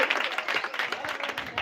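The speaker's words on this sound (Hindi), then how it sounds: "एक बार जोरदार ताली चाहिए।" Applause from an audience at a student study centre farewell ceremony in Bhalni, a dense burst of clapping that stays steady and fairly loud for the full moment.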